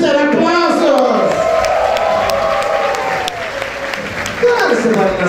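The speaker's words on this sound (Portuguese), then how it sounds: "Alexa Twister, aplausos!" Applause and cheering from an audience at a drag show's Hollywood Night final, loud and continuous over a few seconds, with crowd voices and shouts mixed through it.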